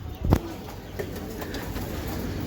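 A racing pigeon in a loft gives one loud, close coo burst near the start, then a few faint coos and soft rustles over a constant hiss.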